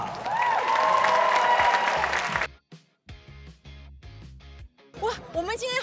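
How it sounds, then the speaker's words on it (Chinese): An audience bursts into loud cheering and applause, with whoops over dense clapping for about two seconds before it stops abruptly and people start talking. "with the loudest cheers and applause, may I present to you a Juma"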